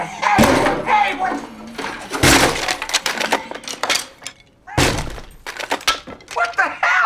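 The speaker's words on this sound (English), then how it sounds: "Smashing the guitar of someone singing a glowing love song" Guitar smashed during a love song, with several loud wooden cracks and crunching breaks in irregular bursts, mixed with shouting voices reacting between the impacts.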